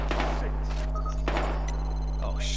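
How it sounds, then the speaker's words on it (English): Gunfire in the video game Battlefield Hardline: a few sharp shots at irregular intervals over a constant low electronic hum and game ambience. "We've got gunshots."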